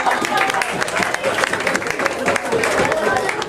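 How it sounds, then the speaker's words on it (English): A room of people applauding together, a dense steady wash of clapping with some crowd murmur, sustained at even loudness throughout. "Let's give them a round of applause"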